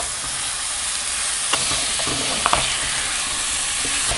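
A steady, close sizzle of tomatoes frying in hot oil, broken by a few light scraping clicks as a spoon stirs the pan.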